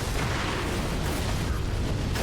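Firecracker prosthetic tool bursting in Sekiro: Shadows Die Twice, a dense, continuous crackling burst that fills the whole moment at steady, loud intensity.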